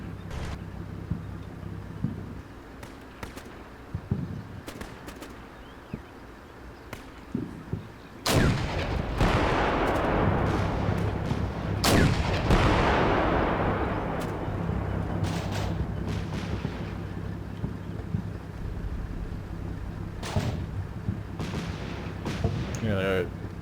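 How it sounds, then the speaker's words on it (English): Grenade launcher fire in the Combat Mission Black Sea war game comes as a few sharp distant reports, followed by a louder prolonged rumble of blasts and gunfire that slowly fades, with a voice talking softly underneath. "They're using grenade launchers over there."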